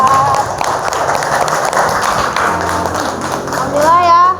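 Classroom of students clapping for group 4, brisk continuous hand claps mixed with excited voices and chatter, fairly loud and close throughout.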